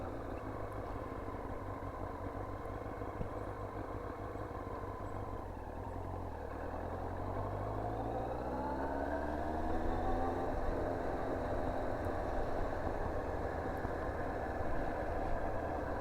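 A Yamaha R1 sport motorcycle idles steadily nearby, with a smooth low rumble that rises and falls briefly in pitch partway through before settling back to a fuller idle. No talking.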